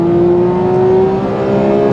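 A Porsche 911 GT3 RS with a 4-litre flat-six wails loud and close at high revs near its redline, one sustained, slightly rising howl that carries through the whole short burst.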